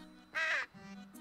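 The Merchant Crow, a shopkeeper character in the video game Timespinner, gives a single short, raspy caw, then a softer second call, quiet and close with no other sounds.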